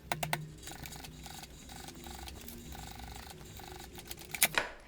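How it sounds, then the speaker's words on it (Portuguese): A sewing machine runs a short seam along the bottom of a zipper on a synthetic-leather shoulder bag, its needle chattering in quick, steady bursts with brief pauses between runs and a few sharp clicks at the start and end. "Vou vir na máquina e vou fazer uma costura só aqui na parte de baixo desse zíper."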